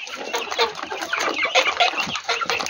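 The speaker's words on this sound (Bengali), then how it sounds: "এটি সব আমার পাহাড়ি মুরগির বাচ্চা।" Hill chicken chicks clucking and cheeping up close, a busy overlapping flock of short, bright calls that keeps going without a break.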